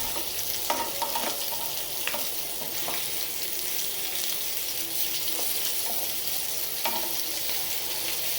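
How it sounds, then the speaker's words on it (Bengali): Eggplant slices sizzle steadily in a pan, a continuous bright frying hiss with a few soft utensil scrapes and clicks scattered through, close and alone without talk. "চল বেগুন ভাজিটা করে নিয়ে আগে।"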